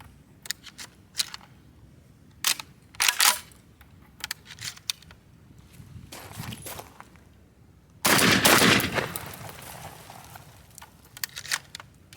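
GForce Arms GF4 shotgun firing 1-ounce high brass Remington Peters slugs, a series of sharp, loud shots with clicks and handling noise between them, including one very loud blast near the middle, close by.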